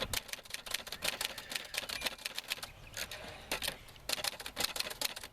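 Keys clatter rapidly on a manual typewriter, a dense, irregular run of sharp mechanical strikes close up, with brief pauses between bursts of typing.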